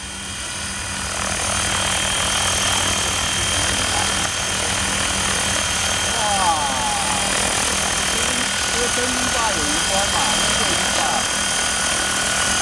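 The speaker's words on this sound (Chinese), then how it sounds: "首次德国的直升机在高滩地" A handmade German TDR model helicopter flies over a riverside floodplain, its steady rotor and engine drone loud and continuous throughout, with people talking faintly underneath.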